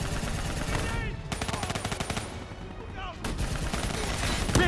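Rapid automatic gunfire from the Call of Duty Black Ops 3 campaign battle, dense bursts of shots continuing throughout with brief lulls, loud and close, mixed with explosions and a faint voice.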